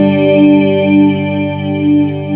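Electric guitar notes swell up in volume through a reverb pedal, a loud, sustained washy chord that slowly rises and falls in gentle waves, alone.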